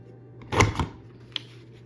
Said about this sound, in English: So I'm just gonna punch a little bit of pink because we're gonna cut and paste.